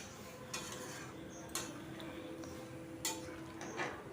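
A utensil stirs a potato and ridge gourd curry in a pot, scraping and clinking against the metal a few times over a low steady simmering hiss.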